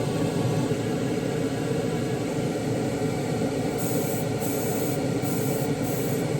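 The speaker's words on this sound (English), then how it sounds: "I'm just misting this paint." A spray gun misting paint inside a paint booth, a continuous loud airy hiss that holds steady throughout under a constant rushing booth noise.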